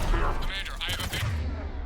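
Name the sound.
cannon fire in the video game Mass Effect 3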